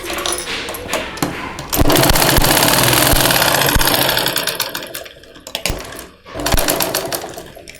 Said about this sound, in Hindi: यहाँ हम दाब सिलाई दे देंगे।